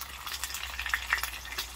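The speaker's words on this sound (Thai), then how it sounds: "ใช้น้ำมันลำข้าวทอด" An egg fries in hot rice bran oil, giving a close, steady sizzle with a few sharp pops over a brief stretch.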